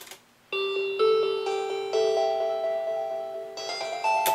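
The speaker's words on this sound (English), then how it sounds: "to give like a little bell sound" A bright synth bell lead in a hip hop remix of a video game theme plays sustained chiming notes in a rising melody, loud and alone, with no voices.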